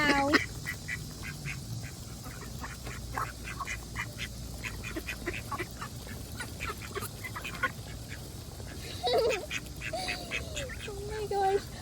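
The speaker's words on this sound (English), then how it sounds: "And look at the ducks." Ducks at a pond crowding in to be fed, with repeated quacks and squabbling calls scattered throughout over steady outdoor background noise, while people talk at moments.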